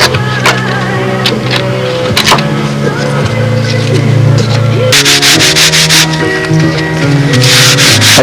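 Soft balsa wood is sanded by hand on a model aircraft canopy, a steady scratchy rubbing close to the microphone with brief louder strokes and occasional knocks, and no one speaking.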